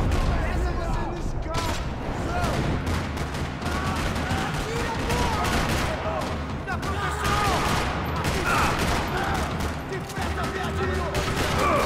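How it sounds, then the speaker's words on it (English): Sustained gunfire rattles through a parking lot in the video game Max Payne 3, dense overlapping shots and bursts at a constant loud level with no pause across the whole stretch. "Another parking lot rattling with gunfire."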